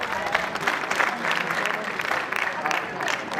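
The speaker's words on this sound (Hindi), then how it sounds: "हमारे गुरुजनों के लिए जोरदार तालियां।" An auditorium audience at a college reunion and expo applauds its teachers, a loud, dense wash of clapping with slight surges, and some voices mixed in.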